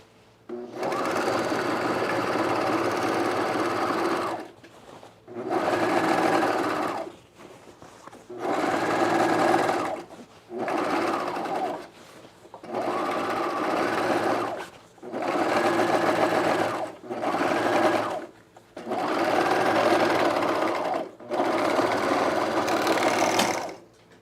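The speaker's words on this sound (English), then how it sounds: "I'm going to overlock this, and I'm going to overlock it and press my seam toward the front" A serger overlocks a seam on men's cargo shorts in eight loud bursts of rapid mechanical whirring, each a few seconds long, with brief quiet pauses between runs.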